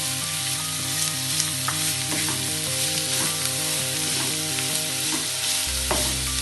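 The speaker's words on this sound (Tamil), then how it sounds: "வெங்காயம்லாம் கொஞ்சம் நல்லா வதங்கிட்டு இப்போ கேரட் துருவில் போட்டுக்குவோம்." Grated carrot and onion sauté in ghee in a pan, producing a continuous, even frying sizzle with occasional stirring scrapes, close and fairly loud, over a low steady hum.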